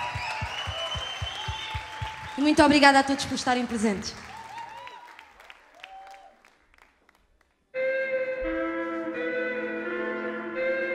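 Concert audience applause at a live fado show at the Capitólio, heard under and around a voice as she thanks the crowd; it thins to near silence before music begins.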